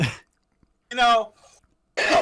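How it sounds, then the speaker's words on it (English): A person coughs three times in harsh, separate bursts with short pauses between, close and loud; no words are spoken. "Pardon me for this cough again."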